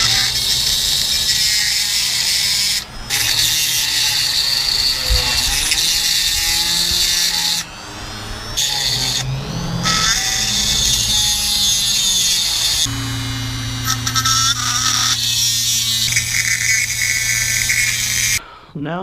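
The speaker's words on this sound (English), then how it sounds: "this Dremel is going to make a lot of noise" A Dremel rotary tool whines and grinds loudly at a high pitch, steadily drilling into a metal case, with several short pauses and shifts in pitch.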